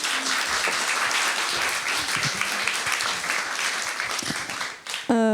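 An audience at a feminist talk event applauds steadily in a hall as speakers come forward, the dense clapping sustained throughout before a brief vocal sound at the very end.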